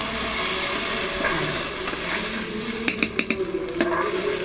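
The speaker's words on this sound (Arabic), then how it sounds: "هنبدا ندلق عليها الطماطم كلها" Tomatoes tipped into a hot pan for Egyptian mahshi hit the oil with a sustained loud sizzle. A cluster of sharp clattering splashes comes near the end, with no talking.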